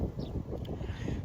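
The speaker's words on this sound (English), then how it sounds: "it's a little bit windy here" Outdoor wind buffets the microphone in a continuous low rumble with uneven gusts, loud and close, and no voice is heard.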